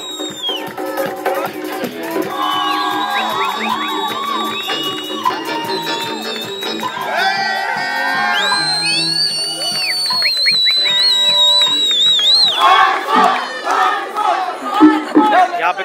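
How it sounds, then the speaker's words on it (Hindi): A live band concert crowd shouts and cheers loudly for an encore, sustained rowdy voices and whoops swelling over amplified music with bright sustained tones, building louder toward the end. "बीच में ब्रेक कर दे रहे हैं, लोग चिल्ला रहे हैं वंस मोर वंस अगेन"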